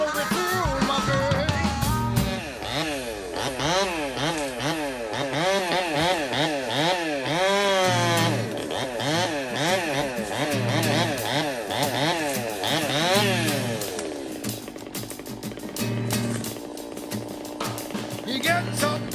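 A two-stroke chainsaw cutting big wood in a small space, its engine rising and falling in repeated revving waves, loud and close, with music playing over much of it.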